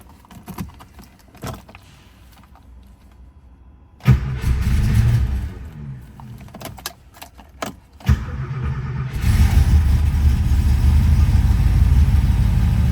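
Keys rattle, then the fuel-injected engine of a Mercedes 300SEL 6.3 cranks on a cold start and catches, stumbles, and settles into a loud, steady idle close by.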